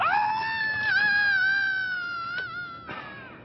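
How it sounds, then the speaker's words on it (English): A long, high-pitched wavering scream that holds steady for several seconds, loud and close, then trails off slightly toward the end. "enjoy the dulcet sounds of me screaming in your ear"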